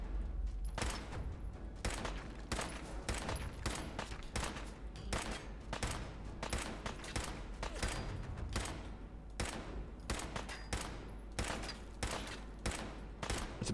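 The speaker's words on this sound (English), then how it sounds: "It's the bizarrest shootout I've ever seen." Rapid, dense gunfire crackles through a shootout in Fallout 4, with loud overlapping shots in bursts that continue almost without pause.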